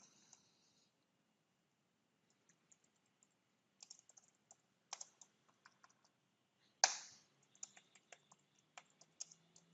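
Keys tapped on a computer keyboard while entering text in modelling software, scattered quiet clicks in short bursts with gaps, plus one louder clack near the end, heard close in a quiet room with no speech.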